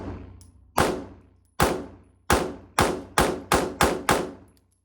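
Eight sharp pistol shots from an Atlas Athena handgun, loud and close, each with a ringing decay, the first spaced widely and the rest coming faster in a steady string.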